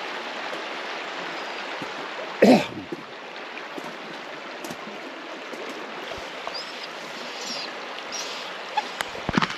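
River flowing near Klondike Notch, a steady broadband rush of water close by and constant throughout, with one brief louder knock or vocal sound early on.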